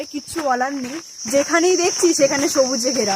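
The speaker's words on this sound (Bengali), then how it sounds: "আর সাথে এই ঝিঝি পোকার ডাক কান মুগ্ধ করে দিচ্ছে" Crickets chirp steadily as a high, continuous buzzing trill on a green hillside in Kalimpong, running beneath a voice talking throughout.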